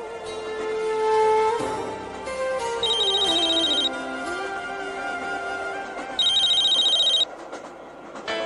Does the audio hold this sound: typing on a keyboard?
no